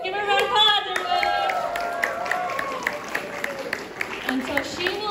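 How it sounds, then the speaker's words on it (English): Clapping and cheering from an anime festival audience greet a female singer taking the stage for a K-pop cover, with scattered whoops and voices over steady applause. "Give her a round of applause, everybody!"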